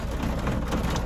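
Heavy rain falls in a steady, dense broadband hiss with no break, loud and close, with no voices.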